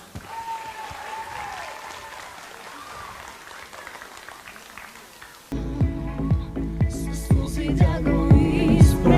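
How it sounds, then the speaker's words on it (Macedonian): An audience at a charity event applauds with a sustained wash of clapping and crowd noise, and loud thumping music then takes over. "Голем аплауз!"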